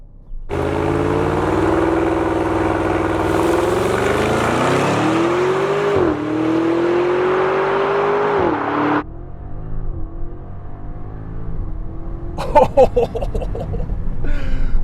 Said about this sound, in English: Just put the window down so we can hear this engine.